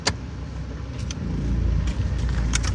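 A car creeps into a parking spot and rides up onto a wooden curb edge, its engine humming steadily at close range with a few light knocks and clunks, rising slightly toward the end.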